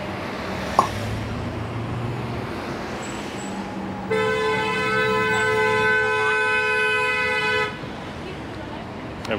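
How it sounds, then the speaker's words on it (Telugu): Car horns honking on a busy street in Beverly Hills, a long sustained blare lasting several seconds over passing traffic noise, preceded by scattered street sounds. "ఎవరికన్నా కొద్దిగా మండిందంటే చాలు, ఒకటే కొడుతున్నారు హార్న్లు"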